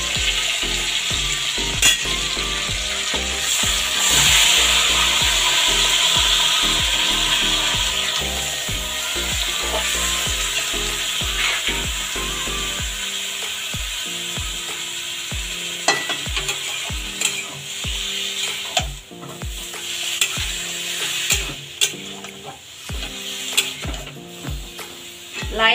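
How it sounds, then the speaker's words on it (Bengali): Bottle gourd pieces fry with a fried fish head in an oiled pan, a loud sizzle under steady rhythmic scraping and stirring, quieting midway to sparser knocks of the spoon against the pan. "মাথাটা ভাজা হয়ে গেছে, আমি এবার লাউটা দিয়ে দেবো।"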